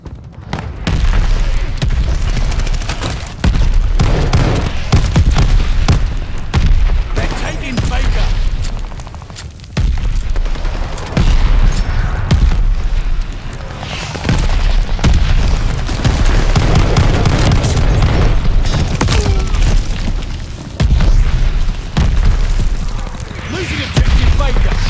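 Mortar fire explodes repeatedly in Call of Duty Vanguard during a 10 vs 10 Domination match on Eagles Nest, loud booming blasts and gunfire in dense succession under shouted in-game voice lines.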